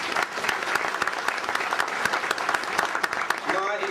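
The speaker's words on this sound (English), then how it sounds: "Give her a round of applause for poetry." A conference audience gives sustained, dense applause for a poetry reading in a large hall, the clapping filling the whole stretch and running steadily before a voice begins to speak at the very end.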